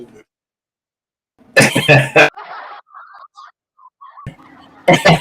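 A harsh, close cough bursts out, followed by raspy throat noises and a second short cough at the end, with quiet pauses between.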